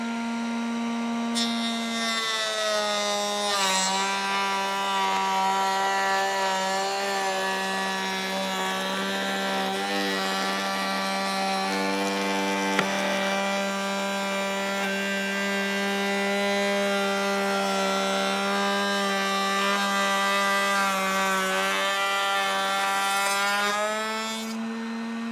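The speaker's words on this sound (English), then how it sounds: "I'm going to cope or cut the bevels out where the panel will slide in" A router cutting bevels into a wooden cabinet door rail, a loud sustained whining drone with strong steady tones that shift slightly in pitch as the cut proceeds, running nearly unbroken.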